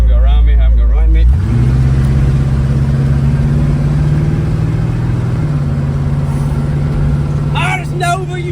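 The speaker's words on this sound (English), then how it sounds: "I hear everything in my engine rattling" A junk 1976 Chevrolet Nova being driven, its engine rattling throughout: a loud, steady low drone with a shift in pitch partway through and a rough, rattly edge, heard from inside the car.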